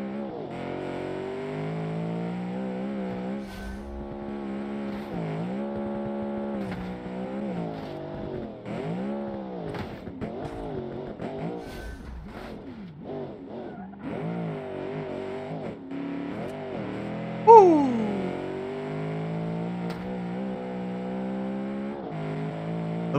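A car resembling a Ferrari 355 Berlinetta is driven through corners in BeamNG, its engine droning steadily with repeated rises and dips in revs as the throttle cuts in and out, plus a brief sharp squeal near the end.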